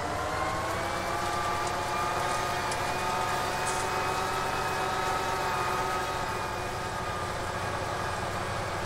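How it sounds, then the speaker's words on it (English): A farm tractor engine drones steadily and loudly, close by, with a constant low rumble and harmonic whine that runs unbroken from start to finish. "This is just a farm tractor"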